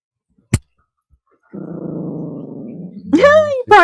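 A dog growls steadily for about a second and a half, a low rumbling snarl up close, after a sharp knock, followed by a person speaking.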